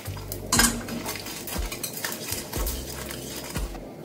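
A metal ladle clanks and scrapes against a pan as black mustard seeds and broken dry red chillies are crushed in hot oil, with four evenly spaced knocks over a low sizzle.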